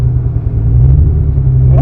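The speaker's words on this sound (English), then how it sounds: "If you guys can hear that scrape, we're sitting on some TN coilovers as well." A 1991 Acura NSX lowered on TN coilovers, driving along with a steady loud low road rumble and engine drone, the scraping hard to separate from the close, continuous noise.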